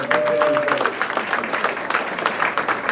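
Audience applause at a sixth-grade fall school chorus concert: steady, dense clapping from a crowd that fills the whole stretch at close range, with a few voices mixed in underneath.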